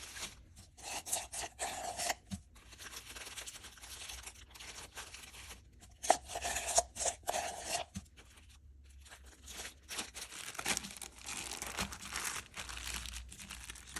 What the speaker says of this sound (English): I like to put it in a baggie because it's just easier for me to squeeze out where I want it to go